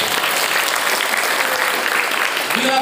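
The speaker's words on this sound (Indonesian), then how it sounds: "Boleh tepuk tangan buat aku." Students at a motivational session at Arrahman school in Sukabumi clap together in a dense, even burst of applause that holds steady for a few seconds.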